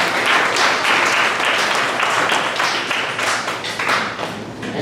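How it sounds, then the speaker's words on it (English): An audience applauds a panel of speakers at a community breakfast, a dense, sustained clapping that carries on for several seconds at close range with no talk over it. "let's give them a round of applause"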